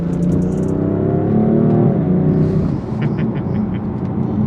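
A BMW M4 Competition F82 with its S55 engine revs and accelerates loudly, its harmonic whine rising in pitch before settling into a steady roar.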